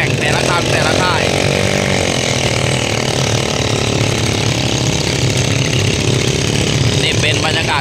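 Iron-wheeled farm tractors revving loudly and continuously during a race warm-up at a temple ground in Nonthaburi, Thailand, a dense rattling engine roar with a voice talking over it.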